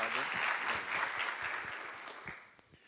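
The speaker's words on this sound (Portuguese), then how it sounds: "Salva de palmas para o Volney." An audience at a design event claps, a dense burst of applause that builds and then thins out into scattered claps over about three seconds.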